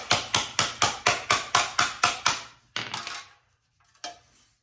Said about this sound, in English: Maybe I will grab a hammer and flatten that up just a touch.